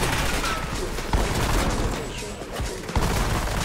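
Dense, continuous gunfire from Black Ops 6 Zombies on the Terminus map, loud and sustained with a few heavier thumps, while a player's voice is partly heard under it.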